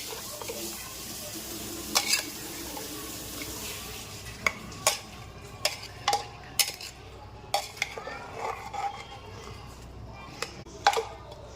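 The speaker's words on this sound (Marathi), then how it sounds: "दूध आणि चिकन सर्व मिक्स करून व्यवस्थित देते" A spoon stirs milk and chicken together in a cooking pot for chicken biryani, giving repeated scraping strokes and clear metallic clinks against the pot over a soft, steady sizzle, fairly close but quiet.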